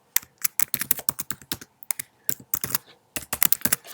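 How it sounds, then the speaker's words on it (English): Quick, irregular clicking of keys on a Mac keyboard while an email is typed in Outlook, crisp close taps in bursts with brief pauses between words. "let's now go directly into the email and type a quick message."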